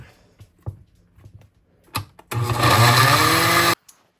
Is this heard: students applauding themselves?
no